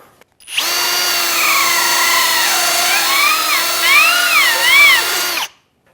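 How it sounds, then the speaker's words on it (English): A power-driven reamer enlarges the bore of a fishing rod handle in one continuous whirring burst about five seconds long, with the pitch wavering slightly under load; it is close and loud, with no talk. "So I'll take my reamer and just hit the top side of it a little bit."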